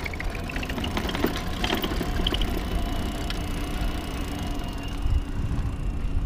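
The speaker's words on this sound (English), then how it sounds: "I'm just going to throttle it and see what happens." An EVELO Compass electric trike in its lowest gear on a steep hill, with the motor under throttle giving a low, steady hum beneath wind and road noise, fairly quiet and continuous throughout.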